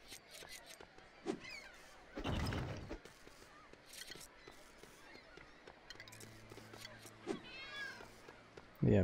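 A cat meows in the video game Lego City Undercover, with a few short cries that grow clearer near the end. They come among quiet clicks, a burst of rustling noise and other game effects.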